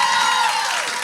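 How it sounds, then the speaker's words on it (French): A congregation at a church service applauds the young people, a short, steady wash of clapping and crowd noise at an even level. "Est-ce qu'on peut applaudir les jeunes, s'il vous plaît?"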